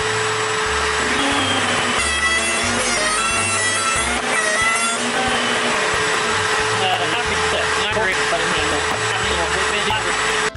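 A power saw cuts a deeper half-inch spline slot in reclaimed wood or walnut, giving a continuous loud whining buzz with pitch wobbling as the blade passes, while a person talks over the noise.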